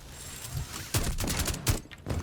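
Rapid bursts of L85 rifle fire in a first-person shooter game, a few clustered volleys of sharp loud shots following one another over a couple of seconds.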